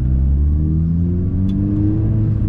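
A Mini Cooper S R53 with a Stage 2 tune revs, a loud, close, steady engine drone with rising harmonics across the short span and a faint sharp pop near the middle.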